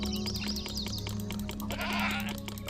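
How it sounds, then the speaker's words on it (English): Sheep bleating in the video game Zeus: Master of Olympus, several wavering bleats from a flock overlapping one another above a steady low game-ambience hum, fairly loud and close, with no talk. "Oh wow, so many sheep."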